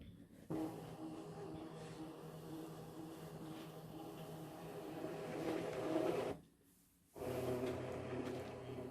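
An electronic cutting machine slices card paper in a steady, buzzing mechanical whir, running continuously and fairly loud before a brief pause, then resuming.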